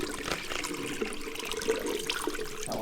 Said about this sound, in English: We're gonna empty it out in the sink just so you can see how dirty the water is.